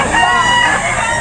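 Roosters at a chicken market behind SM City Lipa in Batangas, heard as a dense, continuous crowing and clucking wash over steady crowd noise, fairly loud throughout.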